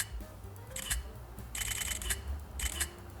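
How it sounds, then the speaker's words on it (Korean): Rapid bursts of an iPhone XS camera app shutter in burst mode while taking a selfie, three quick clusters of fast clicks with short pauses between them, close and clear with no talk. "카메라 앱에서 셔터를 누를 때 셔터를 터치한 상태로 왼쪽으로 밀어주면"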